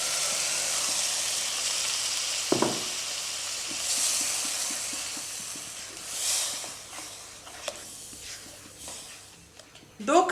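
Tomato puree sizzles and hisses in a pan over low heat, a steady fry with a few sharper crackles and stirring bursts, while a voice speaks faintly at times.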